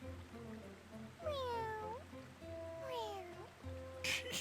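A newly hatched creature in Octopath Traveler II gives two drawn-out, high meows a second apart, clear and close, over a soft looping game music bed.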